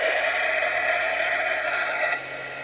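A heat tool blows hot air onto craft foam with a loud, steady whooshing roar that cuts off abruptly near the end, leaving a quieter hum.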